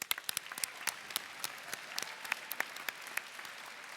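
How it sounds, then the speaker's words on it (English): Scattered applause at a technology center dedication, individual claps sharp and distinct, a modest crowd clapping steadily at moderate volume. "Let's give him another round of applause."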